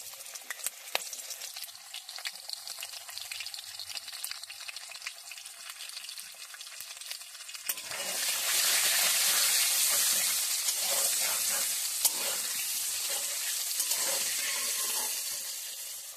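Potato and pumpkin pieces seasoned with salt and turmeric fry in mustard oil in a wok, a light crackle that swells into a loud, steady sizzle halfway through, with occasional stirring clicks and no talking.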